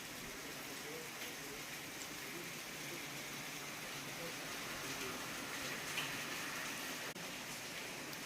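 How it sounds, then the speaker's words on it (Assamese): Steady rain falls in hilly Meghalaya, a continuous, even hiss of drops that holds without pause from start to finish. "বৰষুণ এতিয়াও দি আছে"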